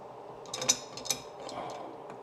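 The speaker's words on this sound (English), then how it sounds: "I'm gonna go ahead and tighten this up here." A fitting on a Whirlpool Pro Series water softener being tightened by hand, giving a couple of sharp mechanical clicks and ratcheting ticks over soft rustling, close and fairly quiet.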